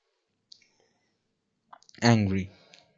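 Computer mouse clicks while an AI face-editing web tool is operated: one faint click, then a few quick soft clicks, followed by a brief burst of voice.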